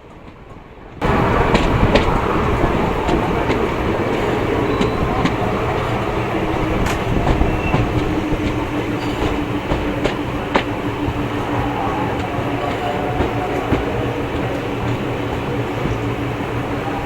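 Train pulling into Kurnool City station on South Central Railway, a steady loud rumble of wheels and carriages after a brief quiet start, continuous with faint clatter and no talk.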